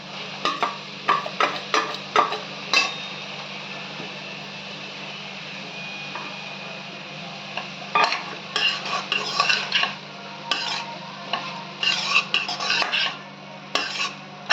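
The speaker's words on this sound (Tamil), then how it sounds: "ரைஸை போட்டு நல்லா கிளறி விடுங்க" A spoon stirs rice into tomato rice with curry leaves in a metal pan, making repeated close scraping and clinking strokes in uneven bursts over a steady low hum.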